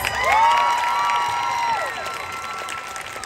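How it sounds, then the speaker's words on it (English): An audience at a Las Vegas event applauds and cheers for stylists and market partners, a loud swell of clapping with a rising whoop on top that fades into lighter clapping. "Let's give them all a huge round of applause"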